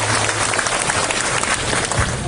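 Loud, dense applause from an audience at a formal signing ceremony for a school support program in an aircraft-noise area, sustained and steady for a couple of seconds.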